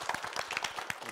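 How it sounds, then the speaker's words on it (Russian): Brief scattered clapping from a small studio audience, a short burst of individual claps at moderate distance. "Спасибо, аплодисменты."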